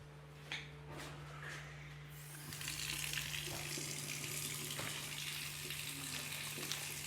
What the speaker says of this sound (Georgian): ეხლა დავიშოთ წყალი.